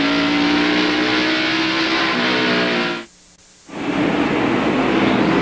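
Stock cars racing at North Wilkesboro Speedway in North Carolina, 1993 First Union 400: a loud, steady engine roar of the pack passing near, cutting to brief near-silence around the three-second mark before the roar returns.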